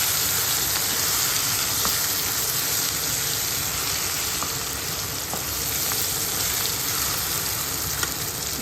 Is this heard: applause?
no